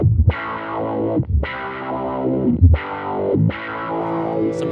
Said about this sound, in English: Then adding in the distortion.